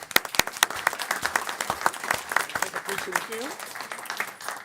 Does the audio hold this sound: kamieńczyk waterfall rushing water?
no